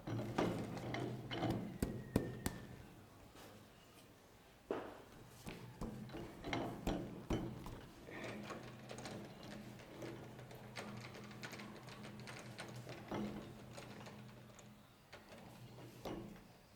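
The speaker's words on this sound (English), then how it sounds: "I tilt my tool to that angle so that I can put on a chamfer" A metal lathe cuts a chamfer on the start of a metal blank with the tool tilted to an angle. Steady mechanical whirring and rattling run throughout, with clicks and knocks, and no talk.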